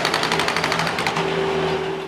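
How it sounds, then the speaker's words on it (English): Concrete being broken up during swimming pool and backyard demolition, with a rapid, continuous hammering chatter from the breaking equipment over a steady engine drone, loud and close. "Constantly have to cut the rebar out as you break up the concrete."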